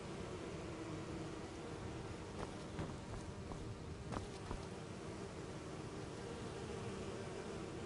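A swarm of bees in the Skyrim video game buzzes as a steady, faint, hissing drone that runs unbroken, with a few brief clicks near the middle.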